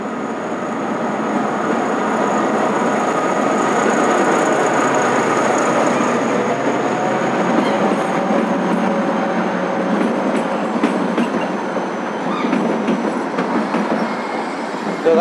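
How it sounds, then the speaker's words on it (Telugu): Kangra Valley toy train arriving at a station, a steady loud rumble of rolling cars with rhythmic wheel clatter and faint squeal, continuous throughout with no talk. "మన ట్రైన్ అయితే వచ్చేసింది"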